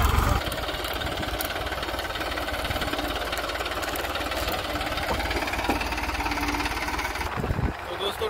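A tractor engine runs steadily and loudly throughout while spreading manure around a field, a continuous mechanical rumble with rattling knocks, close to the listener.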